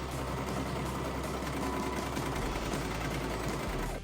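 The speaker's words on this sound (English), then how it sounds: "Lay them right sides together, pin them in place, and serge or sew the sides together." A serger or sewing machine runs continuously while stitching denim panels together, a fast steady mechanical whirring and rattling at close range with no voices.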